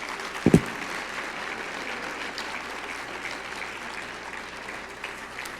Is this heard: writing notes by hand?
no